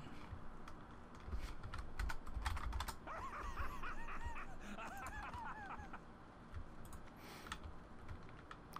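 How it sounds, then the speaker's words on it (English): Keys clatter on a computer keyboard in quick, uneven bursts, fairly faint, with some background noise and brief sounds that may be voices. "I'm like standing here typing"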